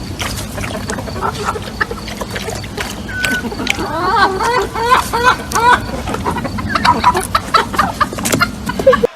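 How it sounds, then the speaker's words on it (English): Backyard chickens cluck in quick, repeated bursts close to the mic, growing busier toward the middle, with people talking over and between the clucks. "What does the chicken say?"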